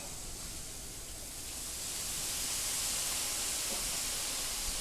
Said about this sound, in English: Let that steam work.